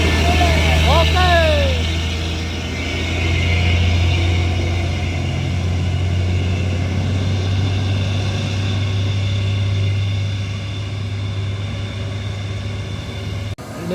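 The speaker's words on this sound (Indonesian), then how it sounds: "Ini dia truk tangki tujuan Medan bosku." A tanker truck bound for Medan climbs a hill with its engine in a loud, steady low roar and deep rumble that holds throughout, a brief horn-like whine early on, and a voice talking over it.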